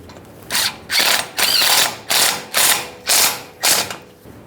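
A ratchet snugs a 10mm mounting bolt on a 2015-2020 Ford F-150 brake hose: seven loud, close bursts of rapid clicking, each about half a second long, with short pauses between them.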